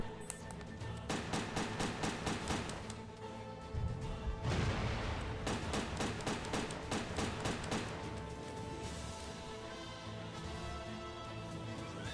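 Video game gunfire in the shooter Headhunter Redux, rapid repeated shots in several dense bursts, fairly quiet and mixed with game effects, with no speech.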